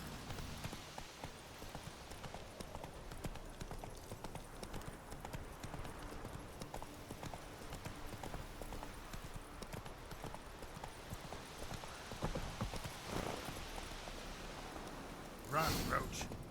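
Roach the horse galloping in The Witcher 3, a continuous rapid clip-clop of hooves throughout, with brief voices and a sharp noise near the end.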